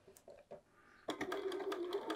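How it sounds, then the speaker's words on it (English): A sewing machine starts stitching the pocket seam of a field bag, a steady fast whir lasting about a second after a few soft handling taps. "I'm just going to sew a little bit and then back tack"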